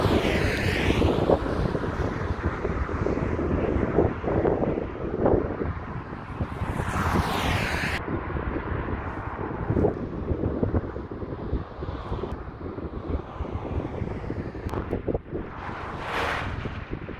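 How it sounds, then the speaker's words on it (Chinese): A strong headwind roars into the microphone while cycling along a mountain road toward Fujairah in the UAE, a loud continuous buffeting rush with gusty swells and no voices. "越往山边走，风越大，顶风起"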